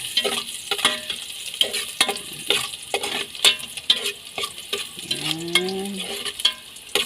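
Garlic and onion fry in a casserole over a strong flame, a steady close sizzle broken by repeated scraping stirs of a utensil against the pan.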